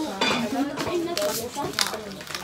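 Dishes and plates clink and clatter during a small family meal at a new house, with scraping and bright clinks of tableware in quick, irregular bursts amid background voices.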